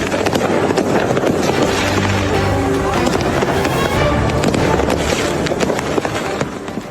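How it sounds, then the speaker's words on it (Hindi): Fireworks burst over Trocadero Square in Paris, facing the Eiffel Tower, during a rowdy crowd gathering with firecrackers and smoke flares. A dense, nonstop barrage of loud cracks and booms fills the whole stretch, close and unbroken. "आसमान में लगातार आतिशबाजी हो रही थी"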